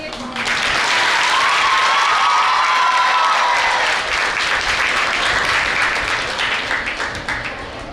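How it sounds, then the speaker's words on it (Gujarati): An audience bursts into loud, sustained applause for Nikitaben at an International Women's Day event, with dense clapping and some cheering that holds for several seconds before easing slightly. "એક જોરદાર તાળી નિકિતાબેન માટે."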